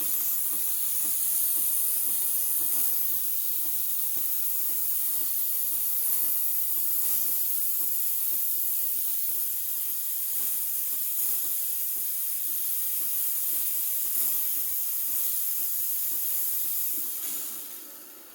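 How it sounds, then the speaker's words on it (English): The steam wand on a Breville Barista Express BES860 espresso machine releases a loud, steady hiss of steam at full pressure that runs unbroken for many seconds, then tapers off at the end. "wait for the steam to come out"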